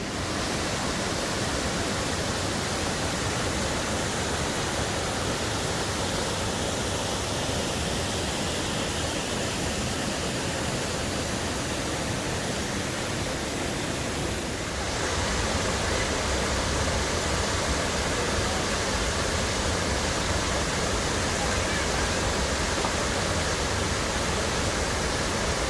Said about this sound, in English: A little cascade coming down. You can hear the water rippling right next to us.